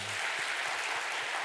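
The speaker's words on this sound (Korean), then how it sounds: "마음 담고 박수" Applause from a church congregation during a Sunday worship service, a steady wash of clapping that fills the room at moderate level, with a few faint low thumps underneath and no clear talk.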